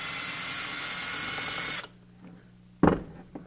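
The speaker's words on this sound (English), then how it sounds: "you would take your drill" A power drill whirs steadily for about two seconds removing a screw from a WE M4 magazine, then stops abruptly, followed by a few sharp clicks and handling knocks.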